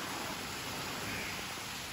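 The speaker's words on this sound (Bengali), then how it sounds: "আজ সকাল সকাল বৃষ্টি হচ্ছে" Morning rain falling outside a window as a soft, steady hiss, faint and uniform throughout, with no speech.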